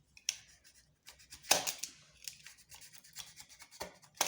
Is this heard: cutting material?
yes